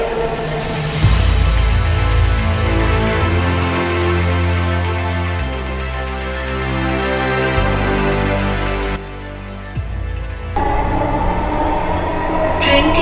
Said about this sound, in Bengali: আমাদের স্টেশনে ওঠার কিছুক্ষণের মধ্যেই চলে আসলো আমাদের ট্রেন